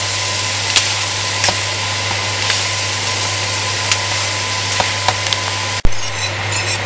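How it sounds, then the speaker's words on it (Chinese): Mashed taro is stirred and tossed in a hot wok, giving a continuous frying sizzle with occasional scraping knocks of the spatula and a sharp clatter near the end. "將呢啲芋頭壓溶咗嘅芋頭啦，擠埋落去，兜一兜佢，炒一炒佢"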